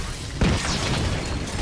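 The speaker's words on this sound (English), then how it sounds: "Here comes an explodium charge." An explodium charge goes off in Heroes of the Storm, a single sudden booming burst that rings out briefly and fades into rumbling game noise.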